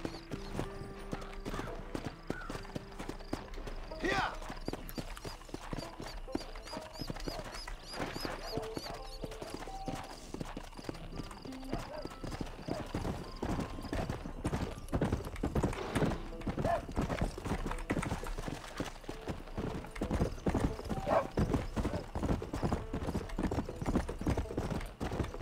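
Horse hooves clip-clopping in Red Dead Redemption, a run of quick, even hoofbeats on the ground with a neigh or whinny in the mix, fairly quiet, while someone talks over parts of it.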